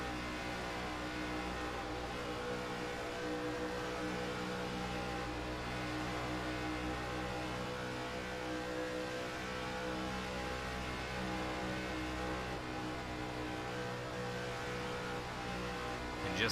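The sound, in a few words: race cars roaring at max throttle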